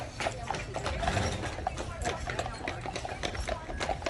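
Horse hooves clip-clop on a street on Mackinac Island, where carriage and saddle horses are for hire; a steady, fairly close trotting rhythm runs throughout beneath people talking.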